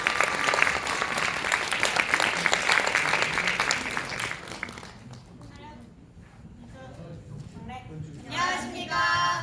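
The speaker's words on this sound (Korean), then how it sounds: "큰 박수로 맞이해 주시기 바랍니다" A school economics club competition audience claps for presenting students, a dense steady applause that fades midway, with a voice speaking over the later part.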